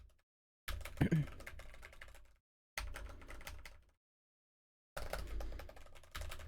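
Clattering keystrokes on a computer keyboard in three quiet bursts of fast typing separated by silent gaps, faint and close, with no speech over them.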